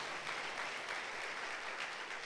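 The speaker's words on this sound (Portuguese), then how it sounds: "Então agradeça a Deus com uma salva de palmas." A church congregation claps together in thanks during a Sunday service, a steady wash of applause that sounds distant and faint, lasting throughout.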